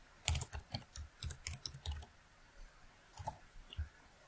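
Clicking and tapping on a computer mouse and keys while setting up a headphone cue mix for a Behringer FCA1616 audio interface in music software, a scattered series of close, crisp clicks with no speech.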